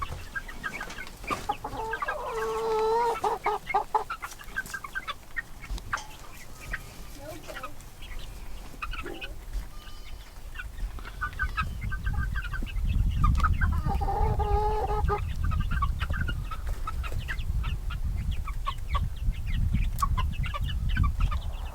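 Chickens cluck and call in bursts around a cowboy handling his birds, with continuous rumbling background noise building through the second half and occasional movement sounds.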